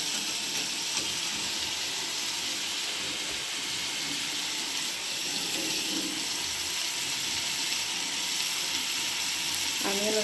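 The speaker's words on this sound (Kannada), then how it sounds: "ಆನಿಯನ್ ಒಂದು 5 ನಿಮಿಷ ಫ್ರೈ ಆಗಬೇಕು." Onions sizzle steadily in a pan for village-style fried rice, a dense, continuous crackle with a faint clink near the end.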